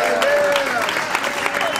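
Audience applause for Vice Mayor Roxanne Qualls at a Cincinnati mayoral address, a steady wash of clapping from a crowd with voices mixed in throughout.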